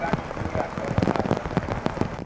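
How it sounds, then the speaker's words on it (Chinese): Heavy rainstorm in Lismore, New South Wales pours onto flooded streets, a dense steady hiss of rain with sharp spattering drops throughout. "雨水猛灌街道，也因为大淹水，速食店都只剩下二楼的招牌。"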